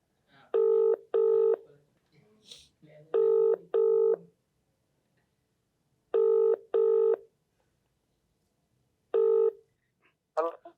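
Phone call ringing tone in repeated double bursts, about four ring cycles, clear and steady, with faint background murmur between rings and a short rustle at the end.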